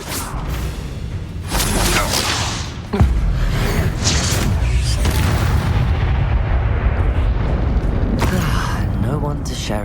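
Spell combat in Hogwarts Legacy, with the Bombarda explosion spell going off among dense, loud blasts, whooshes and booming impacts that run nearly continuously, with a heavy thump near the three-second mark and game voices shouting over the din.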